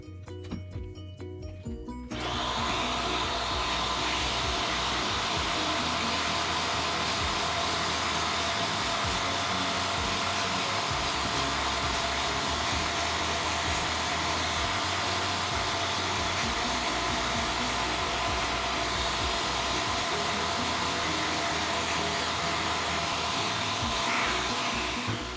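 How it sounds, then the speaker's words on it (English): Vacuum cleaner fitted with a brush attachment cleaning the filter of a Bionaire air purifier; a loud, steady motor roar starts abruptly after about two seconds and runs continuously, close up, with no talking. "I have finished vacuuming the filter"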